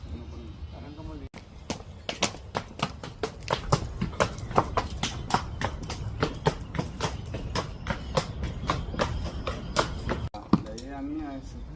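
Horses being led out at a Criollo horse stable, with a steady rapid clip-clop of hooves on hard ground across the whole stretch and a brief voice near the start and end.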